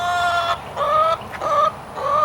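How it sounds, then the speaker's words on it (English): Chickens in a grow out pen cluck and murmur close by in a steady series of nasal, tonal calls, several birds overlapping over a low barn hum, with no talking. "We got chickens in here too, of course."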